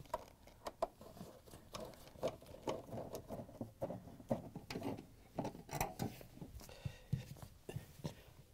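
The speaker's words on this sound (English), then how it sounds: "Now we're going to use the 1/4 inch nut driver to take off the screws that hold on the access panel." Screws being backed out of a GE dishwasher's access panel with a 1/4 inch nut driver: a run of quiet, irregular clicking and ratcheting taps with small metallic knocks, close by and without talk.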